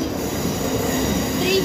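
Class 334 electric train 334024 departing Glasgow High Street station, loud and close with a steady rolling roar and faint wheel squeals, no pauses.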